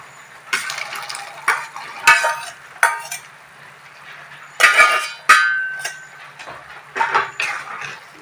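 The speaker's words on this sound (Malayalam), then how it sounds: "അരപ്പ് നല്ലതുപോലെ കുറുകിയിട്ടുണ്ട് ഇനി നമുക്ക് ഇതിലേക്ക് കടലയിടാം" Chickpeas tipped into thick, reduced curry paste in a pan, with a spoon stirring and clinking against the metal in repeated short bursts of scraping and tapping, close up with no voices.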